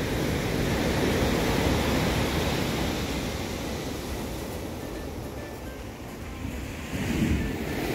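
Sea waves wash against the Mediterranean shore near Genoa as a steady, rushing roar with wind noise buffeting the microphone, swelling slightly toward the end.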